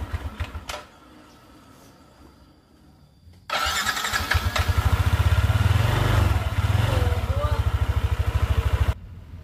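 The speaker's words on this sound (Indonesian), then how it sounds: "Nah, akhirnya motornya bisa hidup ya teman-teman." A few faint clicks, then a Yamaha NMax scooter engine, after a spark plug fix, sputters to life and settles into a steady, loud idle before abruptly cutting off.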